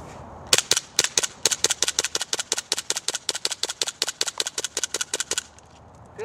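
A WE PX4 gas airsoft pistol fires a rapid string of about thirty sharp, close shots at a steady rhythm during a cold-weather torture test, ending in a quieter mechanical rattle.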